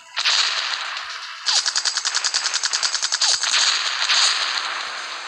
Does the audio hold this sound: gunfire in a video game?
yes